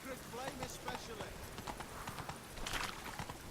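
Horse hooves clip-clopping in The Witcher 3, a steady run of rhythmic hoofbeats under a voice talking over the game audio.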